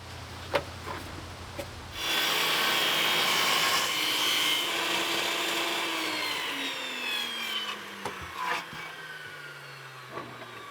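A table saw cutting a 1x10 wooden board in a workshop, the blade whine rising into a loud sustained cut lasting several seconds, then spinning down amid a few knocks and clatters.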